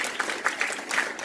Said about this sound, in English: clap your hands all over the building.